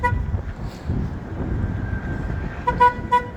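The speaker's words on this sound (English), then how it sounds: "There's a bus coming." A city bus pulls in toward a street stop on a windy day, its engine rumbling under broadband road noise, with a couple of short horn toots near the end.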